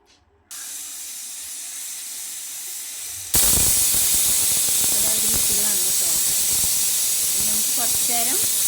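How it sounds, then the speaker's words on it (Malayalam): A pressure cooker full of vegetable biryani made with plain rice lets off a loud, steady rush of hissing steam, starting abruptly after a quieter stretch and continuing without a break. "ഇതൊരു വിസിലിന് വേവിച്ചെടുക്കാം കേട്ടോ ഒരു വിസിൽ വന്നാൽ മതി"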